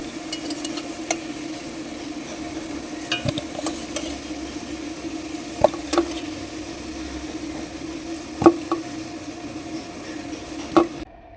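Carrots and beans fry in oil in a home kitchen, giving a steady low sizzle broken by occasional sharp clicks and scrapes of a spoon stirring against the pan.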